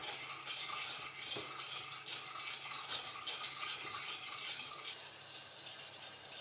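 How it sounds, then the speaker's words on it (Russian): Sugar syrup heats over high heat in a pan on the stove, giving a soft, steady hiss and faint bubbling with occasional light scrapes, quiet and continuous throughout. "На большой температуре довожу сахарный сироп до кипения."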